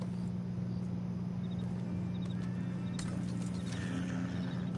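Horse sounds from Red Dead Redemption 2: a steady low engine-like hum under faint hoof clops and a soft whinny, fairly quiet with no talking.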